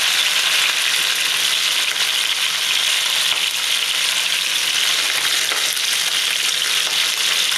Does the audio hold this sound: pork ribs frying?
yes